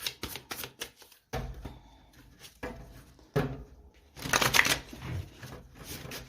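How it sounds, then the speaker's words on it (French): A deck of tarot cards is shuffled and cut by hand, giving quick riffling bursts and soft slaps in uneven rounds, close and fairly quiet, with brief pauses between handlings. "on va aller voir avec le tarot, en commençant par une coupe"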